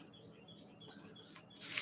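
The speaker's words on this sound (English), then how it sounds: "Birds are singing this morning." Morning birdsong in a quiet room, a few faint, thin chirps scattered over soft background hiss, with a brighter burst of higher twittering near the end.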